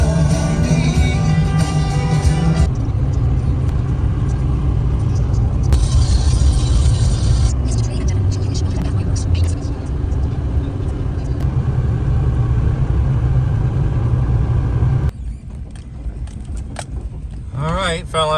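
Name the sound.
skid steer driving loads of stone on road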